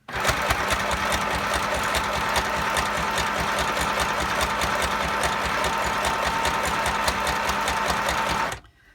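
Domestic sewing machine running at steady speed, stitching through fabric and card for a simple junk journal, a continuous rapid mechanical whirr with a fast regular needle rhythm, close and loud, stopping abruptly at the end.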